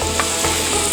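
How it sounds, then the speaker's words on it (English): Yorkshire pudding batter poured into very hot oil in a tin, giving a steady close sizzle and crackle with a low hum underneath and a few soft knocks. "You should be able to hear that sizzle as you pour this batter"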